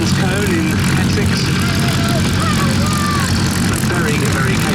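A propeller aeroplane drones steadily overhead at an airshow, a continuous loud engine hum with wavering pitch, under a commentator's voice.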